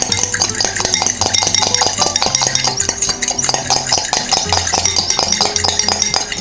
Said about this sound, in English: I'm just gonna lightly whisk it like you would an egg white